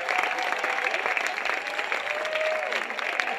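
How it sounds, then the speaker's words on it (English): An audience applauds the winning bidder at a charity auction during an awards evening, a continuous wash of clapping with faint crowd murmur underneath, steady from start to finish. "Give her a round of applause,"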